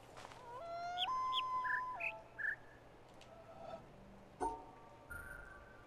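Synthetic bird chirps in the jungle of The Witness video game, a faint series of short tonal calls plus a longer sustained tone and scattered clicks over quiet ambient hum.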